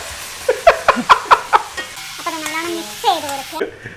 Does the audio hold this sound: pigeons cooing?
no